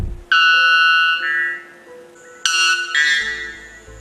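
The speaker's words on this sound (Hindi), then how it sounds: "Number 3, white बेलबर्ड।" A white bellbird delivers loud, metallic, bell-like calls: a long ringing note, then a sharp explosive second call after a short pause, bright and piercing, alone without speech.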